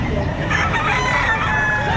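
A rooster crows nearby, loud and drawn out, with more fowl calls and a bustling crowd in the background at a livestock auction market in Padre Garcia, Batangas.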